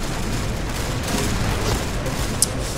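Gunfire in the online shooter Point Blank: a dense, continuous wash of rapid shots and booms, with one sharper crack standing out near the end, no voices.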